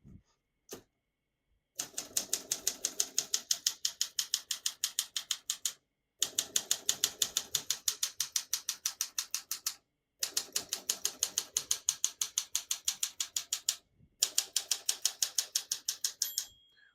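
Rapid mechanical keystrokes from a 1951 Olympia SM2 portable typewriter, clattering in steady bursts separated by short pauses, close and fairly loud.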